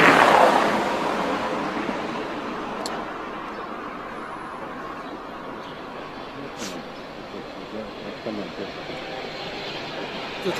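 A tram rumbles past on a Moscow street, a loud broadband roar that swells at the start and then holds steady as a continuous rolling drone, with faint clanks on top.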